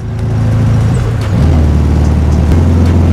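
An air-cooled 40-horsepower classic VW Beetle engine pulls with foot down, a loud, close, steady drone that steps up in pitch as the car accelerates, with no talk over it.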